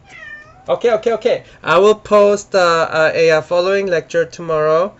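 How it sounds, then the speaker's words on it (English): A house cat meows repeatedly and loudly up close, interleaved with a person speaking during an online lecture recording. "Oh, sorry, that's my cat."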